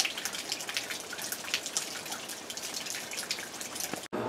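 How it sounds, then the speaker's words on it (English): Light rain falls and drips steadily outdoors near a driveway, a continuous fine patter with scattered brighter drops, moderately close and unbroken until a brief dropout near the end. "Not raining hard, but if it continues, maybe we'll get an inch."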